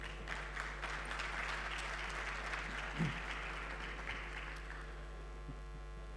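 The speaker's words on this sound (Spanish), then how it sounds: "Un fuerte aplauso, por favor." An audience at a university keynote lecture on energy use applauds a speaker, a continuous wash of clapping over a steady low electrical hum that thins out and dies away near the five-second mark, leaving only the hum.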